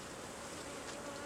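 A steady, dense swarm of bees drones continuously around a beekeeper at close range, a loud unbroken buzz with no pauses and no talking.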